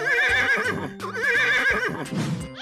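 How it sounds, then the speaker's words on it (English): A horse whinnies loudly in two long, wavering neighs, followed by a snorting rumble at the end. "Horse."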